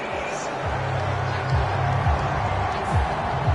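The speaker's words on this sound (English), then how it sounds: "Some boos coming down right now from this home crowd after that call." Home crowd booing in the football video game Madden 25 at Green Bay: a broad, sustained stadium crowd roar with low, drawn-out swells running continuously under the noise.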